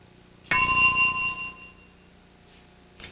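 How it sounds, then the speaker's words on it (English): A single bright game show bell rings out loud and close, a sharp metallic ding that decays over about a second, followed by quiet and a faint click near the end. "You may start that description when you hear the bell."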